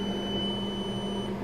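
Continuous multimeter continuity beep while probing the power rail of a Lenovo L340-15 laptop on the bench, a steady high tone held throughout without a break, with a low hum underneath and no talking.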